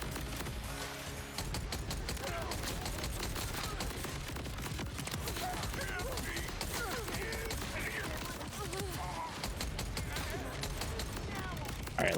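The Fleabag weapon firing in Borderlands 4 gives a fast, unbroken stream of crackling shots and mechanical rattles, held at a steady level under someone talking.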